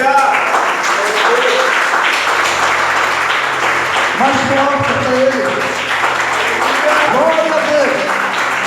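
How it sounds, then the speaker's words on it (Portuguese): A church congregation applauds in a continuous, loud wash of clapping that runs the whole time, while a voice speaks and calls out over it. "Aplauda o Senhor."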